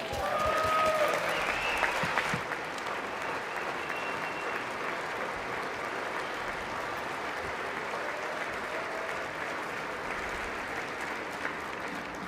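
Sustained loud applause fills the chamber of Congress during the State of the Union address, strongest at first and then settling into a steady, even roar of clapping with faint crowd noise beneath.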